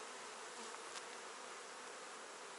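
Honey bees buzz steadily over open hive frames during an autumn colony inspection, a dense, continuous hum that stays even and close throughout with no voices.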